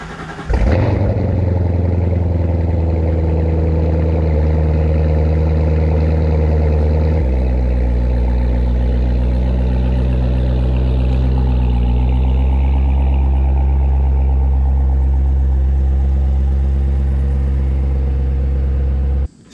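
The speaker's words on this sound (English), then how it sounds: "You guys want a cold start?" A C7 Corvette V8 cold start: an engine cranks and fires into a loud, sustained high idle, then settles into a steadier, slightly lower rumble, heard up close with no talking.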